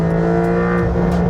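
A Porsche 911 GTS of the 992.1 generation revs its engine hard between 6000 and 7400 rpm, a loud, steady, close mechanical howl with no talk.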